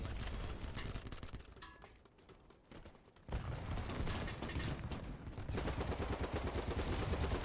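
Rapid automatic gunfire from a weapon without a flash hider in the video game BattleBit, loud bursts with a brief lull in the middle before firing resumes in a steady, dense stream.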